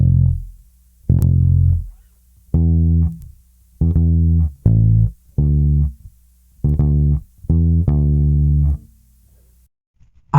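Bass guitar plays a song's bass line: about eight loud, low, sustained notes in a steady repeating rhythm, separated by short silences, with no voice.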